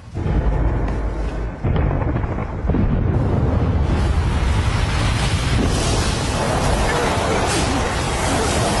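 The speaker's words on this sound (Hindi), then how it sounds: "धमाके के लिए तैयार।" A loud, sustained rumbling roar of an explosion in an animated cartoon film fills the scene, dense and continuous with no clear breaks.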